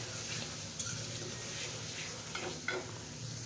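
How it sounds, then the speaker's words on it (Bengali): A spice paste sautés in a pan with a soft, steady sizzle and a few light clinks and scrapes as it is stirred, all fairly faint and close, with no voices. "এখন মশলাটাকে ভালোভাবে কষিয়ে নেব।"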